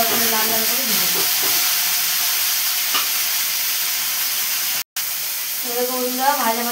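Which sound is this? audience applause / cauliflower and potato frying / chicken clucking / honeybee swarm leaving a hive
cauliflower and potato frying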